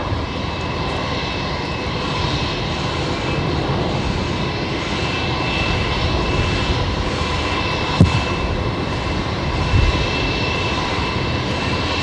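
A Link Airways turboprop takes off from runway 19 right at Brisbane Airport, its engines a loud, steady, broadband roar that fills the whole stretch without fading, with a couple of faint knocks near the end.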